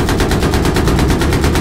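Sustained rapid automatic gunfire from the Battlefield 3 video game during Back to Karkand tank-and-helicopter combat, a loud continuous burst of pulsing shots with dense rumble underneath and no talking.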